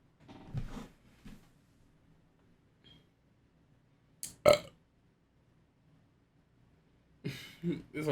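Two loud, wet burps break an otherwise quiet stretch, the first short and the second longer and throatier, followed by a few faint mouth noises.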